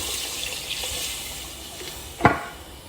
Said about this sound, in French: Je vais rajouter l'eau. Et l'eau, c'est de l'eau chaude.